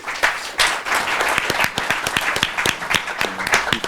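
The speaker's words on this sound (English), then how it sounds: "Please give a round of applause to the candidates." Sustained applause for the candidates at the close of a Chamber of Commerce luncheon forum, a dense crowd of hands clapping steadily and loudly throughout, with individual sharp claps standing out.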